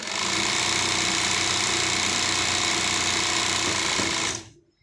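A sewing machine runs steadily stitching elastic into trousers during garment production, a dense continuous mechanical whir held at an even loud level for over four seconds before cutting off abruptly.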